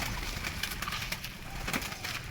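Young doves in a breeding cage give soft, low coos and rustle nearby, with intermittent bursts of fluttering and clicks over a faint background.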